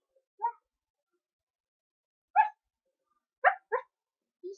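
A dog barks in short, separate bursts: one bark, a long pause, then another, followed by a quick pair and a softer final bark, fairly close in an otherwise quiet space.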